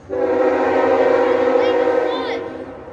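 A K5HL air horn on a GEVO locomotive blasts a single loud, sustained chord close by, holding steady for nearly three seconds with a slight waver before fading out.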